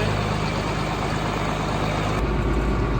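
Case 4494 tractor engine fitted with a straight pipe in Farming Simulator 19, idling with a loud, steady, raspy drone that shifts slightly in tone near the end, alone without talk.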